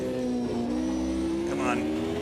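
Race cars in Automobilista 2 at the 1993 Portuguese Grand Prix circuit, engines whining at a high steady pitch as they climb from the bottom of a hill, heard beneath a person talking.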